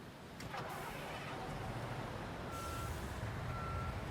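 Dump truck reversing beeps in the Construction Simulator video game, a steady repeating electronic tone under a low engine drone, moderately loud and continuous.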